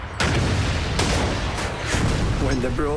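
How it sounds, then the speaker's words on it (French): German 88 mm Flak 18 anti-tank guns fire in a loud sequence of booming blasts with rolling rumble, a battlefield barrage in France against enemy tanks, with a voice speaking over the gunfire. "Tous les canons ont reçu l'ordre de tirer sans hésitation."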